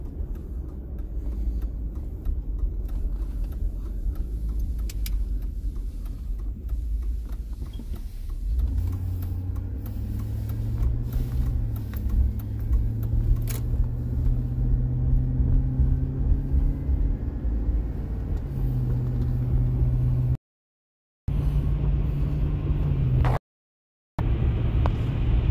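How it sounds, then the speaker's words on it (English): A car drives along the road with a steady low engine rumble and road noise that rises as it accelerates, with cabin hum and no talking. "I'm driving right now."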